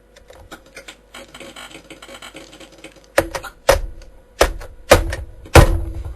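ZX Spectrum keyboard keys clatter in quick light taps, then give way to five heavy, evenly spaced thumps as the keys are hammered hard, close and alone.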